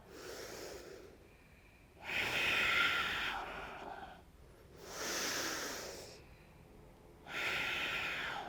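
Slow, deep breaths during a yoga flow, long airy inhales and exhales alternating with quiet pauses, close and soft.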